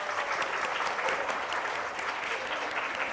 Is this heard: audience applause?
yes